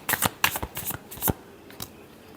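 Tarot cards shuffled by hand in a few quick riffling bursts, close and fairly loud, with brief pauses between and no talk.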